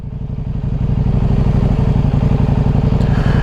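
A motorcycle loaded with a rack and bags riding on Michelin Road 6 tires in the wet, its engine building to a loud steady pulsing throb with rhythmic thumping, close and continuous.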